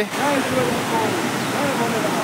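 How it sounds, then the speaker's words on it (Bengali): A waterfall on the Rudranath trek rushes forcefully beneath a bridge, a steady, close, roaring wash of water with a person talking over it. "ঝর্ণার জল খুব ফোর্সে আসছে।"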